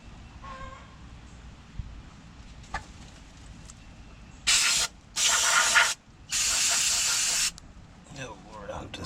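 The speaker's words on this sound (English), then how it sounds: "I'm gonna go ahead and spray this off with some brake parts cleaner" Three loud hissing bursts of aerosol brake parts cleaner sprayed onto the brake shoes of a Chevy G20, close by, after a quieter stretch of faint background clatter.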